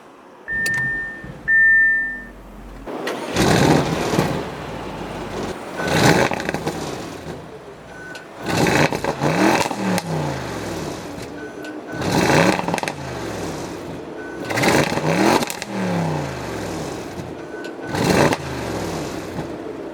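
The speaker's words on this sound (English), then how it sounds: "with my foot on the brake, I can go ahead and start it up" A 2017 Audi RS7 sounds a few electronic chimes, then its engine starts and is revved hard in about five loud, rising-and-falling surges, heard close up with short idle gaps between them.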